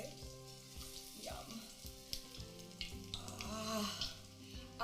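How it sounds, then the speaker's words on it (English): Steady crackling sizzle of beer-battered cauliflower pieces frying in hot oil at around 350°F, bursts of bubbling rising and falling throughout at close range. "we're just gonna very gently drop them in the oil. Do you hear that sizzle?"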